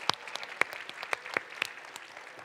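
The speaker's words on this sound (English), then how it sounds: "Let's give Tex L a massive round of applause." Applause for a competing team at the EVE Online Fanfest 2009 PvP tournament, a scattered audience clapping with distinct individual claps at moderate distance, steady for a couple of seconds.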